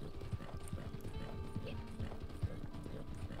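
Horse hooves clip-clop steadily in the Western video game Red Dead Online, a quiet, even trot of soft thuds over low ambient background.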